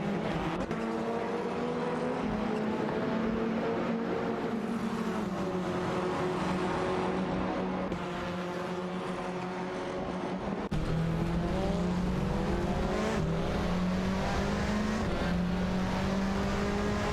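Touring racing cars, an Alfa Romeo Giulietta TCR and a Honda Civic, drone steadily in a racing game, engines holding a continuous loud whine with shifting pitch as they jostle for position, no talk.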